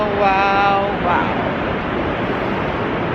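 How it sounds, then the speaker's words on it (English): Rushing water of Twin Falls waterfall at Rock Island State Park, a steady broadband roar filling the scene, loud and continuous, with a faint tonal hum early on. "Just listen to the sound of that water."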